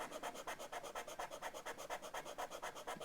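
Sandpaper rubbing steadily over the nut of a Fender Telecaster guitar, a quiet, close, even back-and-forth rasp that repeats in quick regular strokes.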